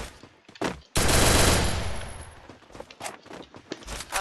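A burst of rapid automatic gunfire in the mobile shooter game Free Fire Max is loud and continuous, then fades into scattered shorter shots and clicks.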